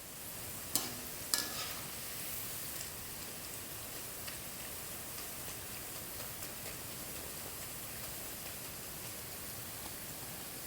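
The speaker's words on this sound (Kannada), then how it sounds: "ಅದು ಗೋಲ್ಡನ್ ಕಲರ್ ಬರೋವರೆಗೂ ಫ್ರೈ ಮಾಡ್ತಾ ಇರಬೇಕು" Onion pakoda, bakery style, bubbles in hot oil with a faint, even sizzling hiss that continues steadily throughout, broken early by two brief clicks and a few soft taps.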